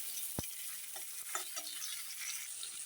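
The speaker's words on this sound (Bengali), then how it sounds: "এখন একই তেলে আমি বেগুনগুলো ভেজে নিই" Eggplant pieces frying in the same oil just used for fish, a soft continuous sizzle with a few clinks of stirring near the start, fairly quiet and with no voice.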